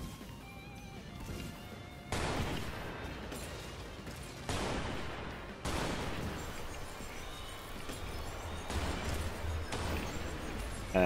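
Gunfire in the aerial combat game Strike Vector EX, sharp repeated bursts starting abruptly every few seconds over a constant loud engine and battle roar, with no talk.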